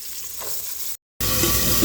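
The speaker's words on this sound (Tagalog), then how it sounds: "So, now, gisa natin yung ating bawang. After ng bawang, lagay natin yung ating sibuyas." Garlic followed by onion sautéing in a pan for chicken maqluba, a soft continuous sizzle that cuts out for a moment and then comes back louder and brighter.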